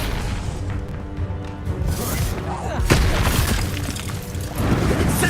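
Spell blasts in Hogwarts Legacy, a dense run of booming explosions and crashes with a sharp hit near the middle, layered over game music and a voice calling out spell names.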